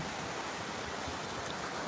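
Atlantic Ocean surf on Juno Beach, Florida, heard as a faint, steady hiss of breaking waves and wash with no distinct individual crashes or voices.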